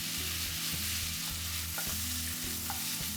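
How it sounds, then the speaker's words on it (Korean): Steady sizzling in a pan as oyster sauce is stir-fried into a Thai curry crab dish, with repeated scraping and stirring strokes, a continuous close frying hiss throughout, no voices. "여기에 굴소스도 넣고 또 볶아줍니다"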